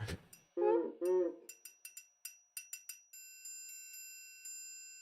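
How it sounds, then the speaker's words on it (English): A small bell or triangle effect from a sound library, rung in a quick series of bright metallic strikes that build to a ringing, sustained shimmer fading out on its own. "Or that's like a triangle"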